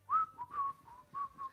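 A person whistles, imitating a golfer's whistle after a big tee shot, giving a short tune of several clear, close whistled notes with brief pauses between them.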